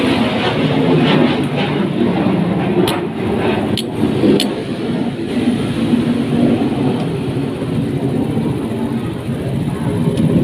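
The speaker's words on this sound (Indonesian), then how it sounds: "Ada pesawat teman-teman" Airplane flying overhead outside a motorbike repair spot, a steady broad low rumble holding loud and continuous throughout with no clear rise or fade.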